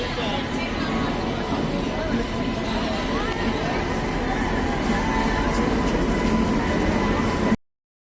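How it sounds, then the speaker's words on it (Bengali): A train, the Tamralipta Express from Howrah to Digha, pulls into a crowded platform with a continuous rolling rumble, while a crowd murmurs and chatters in the background throughout. "আর এখন ট্রেনও আসছে, ওই যে দেখতে পাচ্ছ আমাদের ট্রেন চলেছে"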